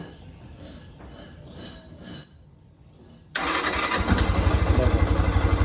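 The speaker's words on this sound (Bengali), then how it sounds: "আমার বাইক কিন্তু স্টার্ট হয়ে গেছে" An FZS motorcycle engine cranks with the electric starter, catches abruptly and settles into a loud, steady, throbbing idle close by.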